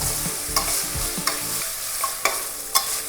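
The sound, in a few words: green peas frying in a pan for matar pulao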